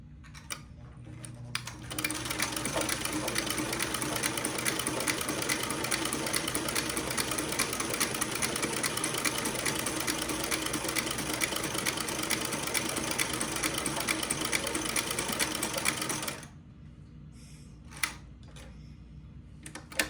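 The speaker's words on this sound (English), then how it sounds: "Drop my needle right at the level of the top dot and make another buttonhole." A sewing machine stitches a buttonhole on a girl's dress, running steadily and loudly for about fifteen seconds in a fast, even whir of stitches, then stopping, followed by a few faint clicks and handling sounds.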